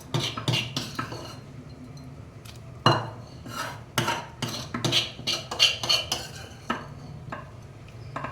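Biryani masala going into a pot of boiling rice and being stirred, with clattering spoon-on-pot scrapes and knocks, metallic clinks in an irregular rhythm over a low bubbling background.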